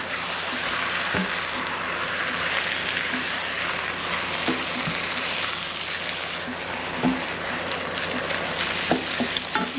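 Stir-fried rice noodles sizzling in a hot pan as soy sauce is added, a steady close frying hiss with scattered scraping and tossing clicks from stirring throughout.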